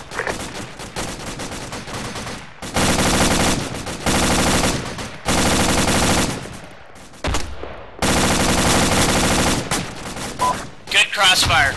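Long bursts of automatic gunfire in the military video game ACRE, loud and sustained with short pauses between volleys and a few quieter gaps.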